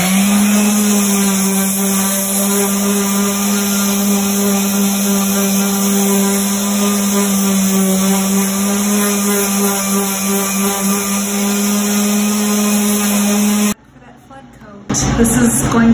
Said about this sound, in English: sanding it down now